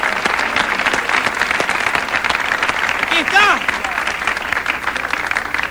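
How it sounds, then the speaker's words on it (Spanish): A live comedy show's audience claps continuously and fairly loudly, with a voice speaking briefly over the applause partway through. "¡Aplauso para el verdugo!"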